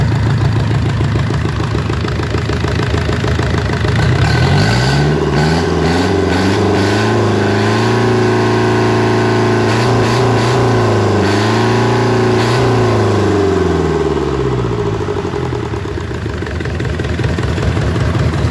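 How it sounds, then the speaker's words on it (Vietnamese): A Yanmar 4JH 40-horsepower diesel engine running close by, a steady throbbing rumble that revs up and settles back down, continuous and loud with no talking. "máy nổ đất êm không có hơi thừa không có khói trắng"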